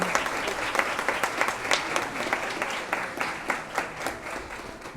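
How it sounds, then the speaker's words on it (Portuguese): Sustained applause from an audience at a ceremony honoring a professor, steady dense clapping with no break for five seconds. "Com uma salva de palmas."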